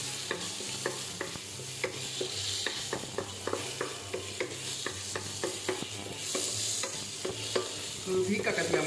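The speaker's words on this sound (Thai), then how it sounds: "เราก็ลงพริกกับกระเทียมเลยนะครับมาได้แล้วใส่เลยนะครับ แล้วผัดไปก่อนนะครับ" Chili and garlic stir-fry in a hot pan, a bright continuous sizzle with rhythmic clacks of a spatula stirring, close up with no talk.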